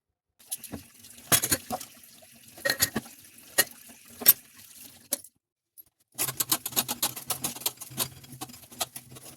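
Large pots and utensils, including a pressure cooker and a kadai, are scrubbed and washed in close, clattering, scraping bursts, with a brief quiet pause midway before the busier scrubbing resumes; nobody speaks.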